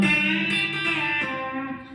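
A B-bender guitar plays a brief country lick moving from D into C, with ringing sustained notes and a bent pitch change partway through, clear and alone.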